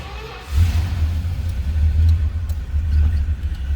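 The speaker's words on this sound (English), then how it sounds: "go ahead and turn the key. Car will start right up." A 1967 Dodge Dart GT Convertible's engine catches and settles into a low, steady idling rumble, loud and close, with no talking.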